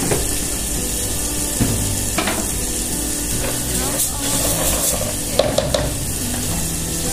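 Four cups of rice go into a hot red pot and sizzle, a crackling hiss under scraping and stirring clatter, with a few sharp knocks of a utensil against the pot.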